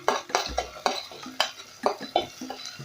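Capsicum pieces go into a pan already holding turmeric for a chickpea curry, with a run of stirring and utensil scrapes against the pan in steady, clattering strokes, alongside a faint sizzle.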